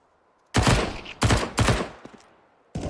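SMG gunfire in a Counter-Strike style match, two or three sharp rapid bursts fired close and loud, separated by brief silences, with another burst starting at the end.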